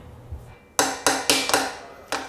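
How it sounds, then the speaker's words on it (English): Five sharp metallic hammer taps on a bicycle part during a bike fit, close and loud, evenly spaced with a short pause before the last strike. "This is British engineering. It's been designed to be used with a hammer."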